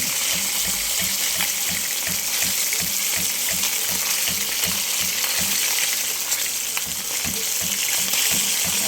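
Daling-daling fish frying in hot oil until crispy, a steady, dense sizzle and crackle with a soft rhythmic bubbling underneath, close and continuous with no talking.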